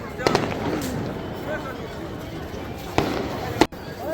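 Firecrackers burst during Diwali on Manali's Mall Road, with a few sharp bangs and crackles spaced apart amid street noise and people talking nearby.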